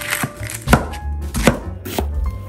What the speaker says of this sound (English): cut half an onion.